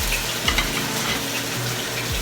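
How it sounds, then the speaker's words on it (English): Pork loin drops into a hot pan and sizzles with a steady, dense frying hiss, close and continuous, with faint knocks from the pan underneath. "Get that nice sizzle going."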